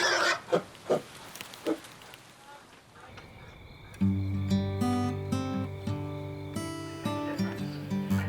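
A pig grunts and snorts in several short bursts up close, then a steady musical passage takes over with pulsing tones.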